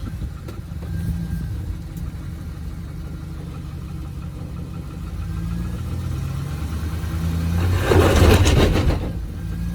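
A truck engine runs steadily while the vehicle sits stuck on rocks with something wrong with it, a low rough idle that swells into a louder rev near the end, close up with no talking.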